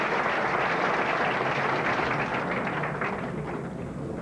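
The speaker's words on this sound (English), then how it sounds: "Fine round of applause by the crowd here." Crowd applause at a 1980 bowling tournament in Buffalo, a dense, steady burst of clapping filling the hall that stays loud and alone for a few seconds before easing slightly.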